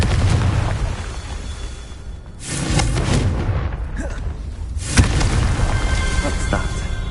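Confringo explosion spell cast in Hogwarts Legacy: loud booming blasts over a rumbling background, with a sharp burst around five seconds and a voice speaking briefly.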